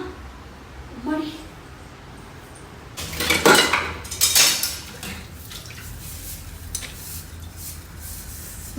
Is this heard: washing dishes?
yes